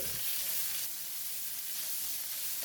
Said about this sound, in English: Add in all minced pork, stir and break the lumps. Spread it around the pan.